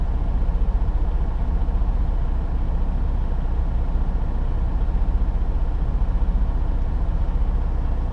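Trucks pull out in a queue and drive toward a site. A steady, close diesel engine rumble holds an even, unbroken drone throughout.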